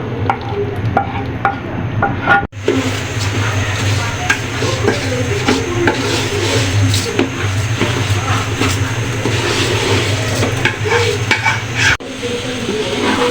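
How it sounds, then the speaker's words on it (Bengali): Pulao rice frying in oil with spices and fried fish oil makes a continuous close sizzle, with a spoon scraping and stirring in a steady rhythm and a couple of brief pauses. "চালটা ভালো করে ভেজে নিলাম।"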